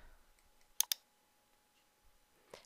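Two quick mouse clicks land close together, crisp and near, followed by a faint click a moment later in otherwise quiet surroundings.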